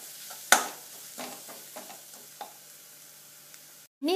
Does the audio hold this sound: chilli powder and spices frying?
yes